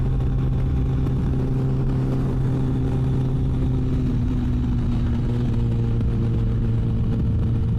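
A Triumph Tiger 660 Sport motorcycle accelerates past on the road, its engine note steady and loud with a rising drone and strong wind rush, heard alone.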